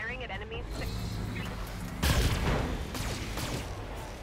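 Battle mechs fire their weapons at enemy units in BattleTech: a continuous roar of gunfire and impacts, with a heavy burst of shots around the middle and further volleys after it.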